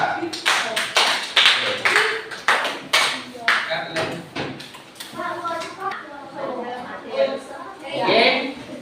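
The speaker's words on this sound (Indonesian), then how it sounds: "berikan tepuk tangan untuk kelompok 2." A classroom of students applauds group 2, with a burst of loud, uneven clapping at the start that thins into scattered claps as voices chatter over it.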